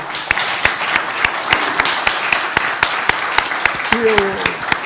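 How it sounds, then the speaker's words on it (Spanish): Audience applause for Hernán Loyola at a book event: sparse, evenly spaced claps ring out over a noisy room murmur, with a brief voice near the end. "un aplauso para don Hernán"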